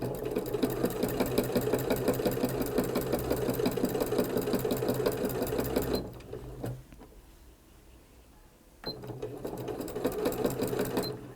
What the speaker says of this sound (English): So I'm going to sew about 1/4 of the length down and then stop sewing.